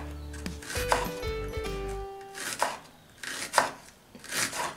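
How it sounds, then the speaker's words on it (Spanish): A knife slicing an onion thin on a cutting board gives a few soft, close chops, with faint clinks of a utensil near the start. "Y ahora la cebolla la vamos a partir."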